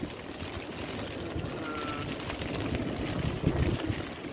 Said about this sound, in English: Yeah, the wind definitely picked up.